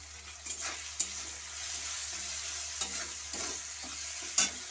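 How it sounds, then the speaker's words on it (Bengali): A quiet, steady sizzle of tomatoes frying in a pan, with a few soft scraping stirs and clinks of a utensil. "ভালো করে আমি টমেটোমটা আমি ভেজে নিচ্ছি"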